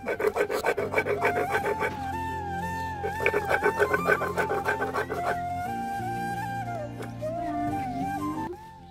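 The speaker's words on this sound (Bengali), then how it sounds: "নুন দিয়ে একটু শিলনোড়ায় একটু বেটে নেবো।" Rhythmic rasping strokes of tomato, chilli, garlic and salt being ground into chutney on a shil-nora grinding stone, loudest in the first seconds and heard under steady melodic background music.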